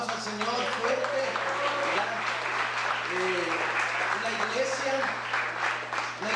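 Church congregation applauding during a Spanish-language worship service, a steady spread of clapping from many hands with music and voices underneath, moderately loud and continuous.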